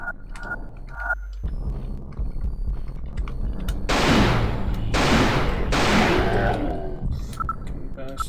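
Shotgun blasts in a video game, two heavy booming shots a second apart amid continuous game noise and background sounds, loud and close.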